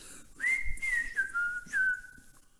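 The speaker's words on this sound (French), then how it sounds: "un papa passe devant le magasin en sifflotant" A man whistles a lilting tune as he walks past a shop, the clear melody gliding over a few sustained notes at close range with no other sounds around it.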